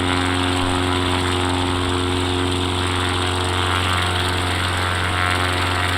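X Cub light propeller aircraft in flight over a hilltop golf course, its engine droning steadily and loudly with a constant buzzing hum.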